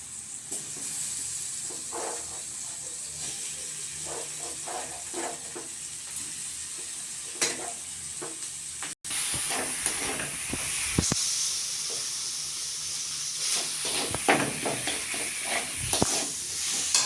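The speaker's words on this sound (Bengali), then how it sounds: "মশলাটা কষা হয়ে গেছে এবারে আলুগুলো" Potatoes fry in spiced masala for a bread-and-potato snack, a steady close sizzle broken by frequent scraping stirs and clinks of a spatula in the pan.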